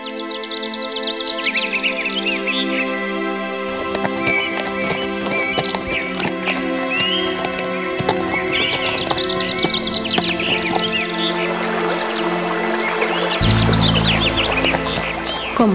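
Steady clip-clop of horse hooves with a horse neighing, set against chirping birds and background music throughout.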